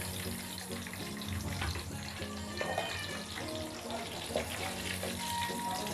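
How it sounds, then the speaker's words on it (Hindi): Ginger garlic paste sautéing with cumin in a pan, a steady soft sizzle running throughout at moderate level, with faint kitchen clatter and occasional brief tones over it. "और इसको थोड़ा सा सौते करेंगे, मतलब अदरक लहसुन के पेस्ट को पकाएंगे तकरीबन 2 मिनट अच्छी तरह से।"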